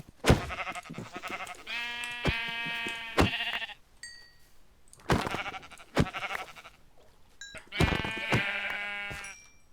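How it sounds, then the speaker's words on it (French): Sheep in the video game Minecraft bleat several times in short wavering calls, coming in three separate bursts with quiet gaps between them. Clicks and game effects are heard alongside the bleats. "Oh des moutons, ça c'est top."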